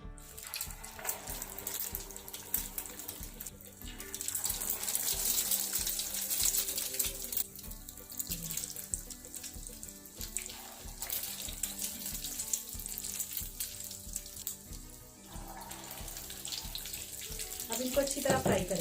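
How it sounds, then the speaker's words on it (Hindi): Potato and pea tikki dipped in beaten egg and frying in hot oil give off a steady, close sizzle full of fine crackles that runs the whole time. "अब सबसे पहले टिक्की को अंडे में डिप करेंगे और ऑयल में फ्राई करेंगे।"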